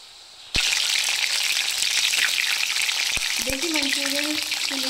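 Mushroom Manchurian pakoras in hot oil on medium heat break into a loud, steady sizzle after a short quiet start, with a few knocks and some scraping stirs later on.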